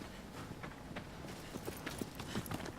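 Horse hooves clip-clop at a steady walking rhythm in the video game Shadow of the Colossus, moderately close and fairly quiet over a soft outdoor ambience, with no talking.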